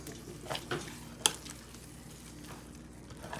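A spoon stirs and scrapes a hot red candy mixture around a pan for the hottest candy cane, with soft repeated scraping strokes over a low sizzle and one sharp clink.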